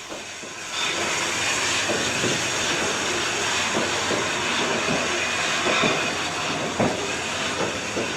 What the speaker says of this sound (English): Here it is in June 1972, heading out to pick up wagons at the land sale yard.